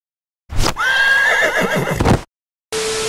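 A horse in a Minecraft horror animation gives one loud, close whinny lasting about a second and a half, clean and stylized, followed after a short silence by a different tonal game sound.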